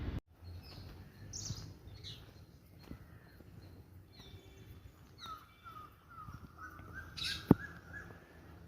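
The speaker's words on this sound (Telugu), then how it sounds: "మనకి ఇక్కడ పక్షులు కిలకలు రావాలి, కాకిలు కిలకలు రావాలి, ఎంట్రీ పలుకుతాయి." Crows caw and smaller birds chirp intermittently around Madhavadhara temple in Vizag, calls scattered and moderately distant over a quiet background, with faint footsteps and one sharp knock near the end.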